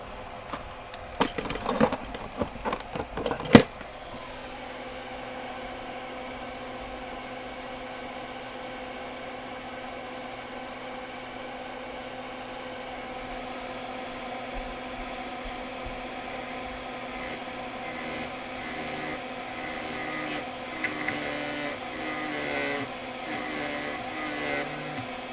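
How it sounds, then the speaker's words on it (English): A grinding pen works on a MacBook Pro Retina logic board that will not power on, producing a steady, close rasping whir that runs continuously after a few sharp clicks and handling knocks at the start. "I've got a grinding pen."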